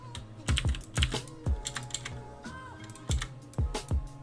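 Computer keyboard shortcut presses while editing video in DaVinci Resolve 18; several close clusters of clacky key taps come in quick irregular bursts with short pauses, with no talking.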